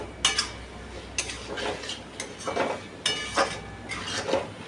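Potato, pointed gourd and pumpkin curry being stirred and sautéed in a pan, a spatula scraping and clinking against the metal in irregular bursts, close and clear with no talking.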